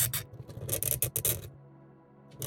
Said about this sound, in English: I've grown to enjoy that sound of scraping,